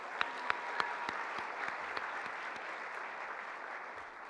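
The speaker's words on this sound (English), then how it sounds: "give them one more round of applause." At an annual chamber dinner, a banquet hall audience applauds with steady, dense clapping heard from a distance, a few sharp nearby claps standing out at the start.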